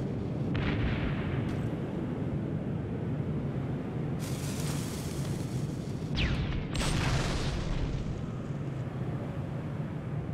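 Grenade blasts in the game Terminator Resistance, several loud booming detonations with crackling debris and rumbling tails over a constant low battle drone, no voices.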